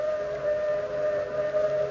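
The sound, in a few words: train whistle sound effect in old-time radio drama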